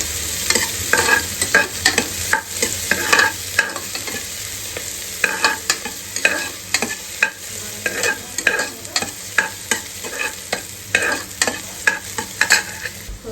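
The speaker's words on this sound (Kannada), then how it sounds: "ಇವಾಗ ಆನಿಯನ್ ಫ್ರೈ ಆಗಿದೆ" Chopped onion frying in hot oil in a pan, a steady sizzle broken by repeated scraping stirs at an irregular rhythm, close and fairly loud, with no talking.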